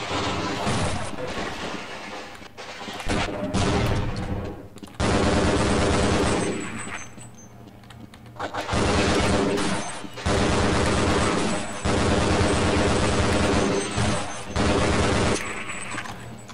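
Loud, close automatic gunfire from the video game Half-Life Blue Shift rattles out in several long bursts, separated by brief pauses and punctuated by sharp impacts.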